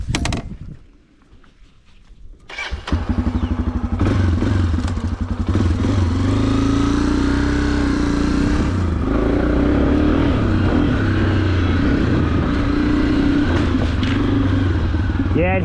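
A Honda CRF300F dirt bike with upgraded forks rides off-road, its single-cylinder engine starting up and then droning loud and steady close to the rider, with bumps and clatter over rough ground.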